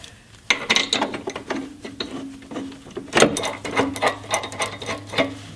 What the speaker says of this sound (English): I'm just going to release this nut here on the nut strip